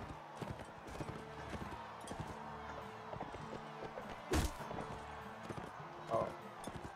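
Horse hooves clip-clop in Mount & Blade Warband in a steady rhythmic beat, with a couple of louder thuds and a brief whinny-like burst over the game's ambience.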